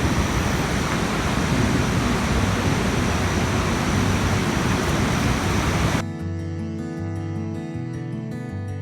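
Bidadari waterfall in Aceh pours in a steady, broadband rush at close range, a constant roar for about six seconds before it gives way to a quieter, tonal stretch.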